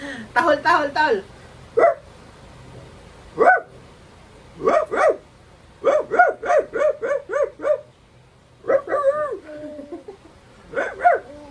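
A voice imitates a dog barking to amuse a child, making short yelping barks in quick bursts and runs, close and fairly loud, with quiet gaps between them.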